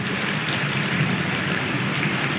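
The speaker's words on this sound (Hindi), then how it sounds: "तूफानी हवाओं के साथ बारिश ने गली मोहल्ले डुबो दिए।" Heavy rain pours in a steady, dense roar, with gusty stormy wind blended in and no pauses or voices.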